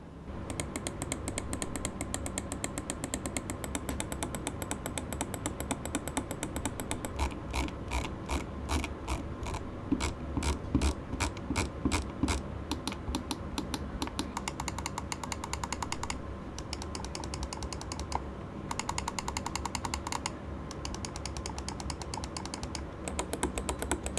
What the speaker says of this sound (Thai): ต่อไปเราลองไปฟังเสียงตัวเมาส์กันบ้างว่าจะเป็นยังไงนะฮะ